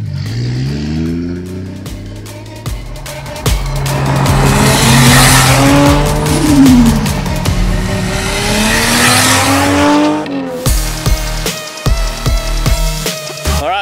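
A Mark IV Toyota Supra's engine and exhaust roar as it drives, revving up and down with rising and falling pitch, loud and close, with some tire squeal.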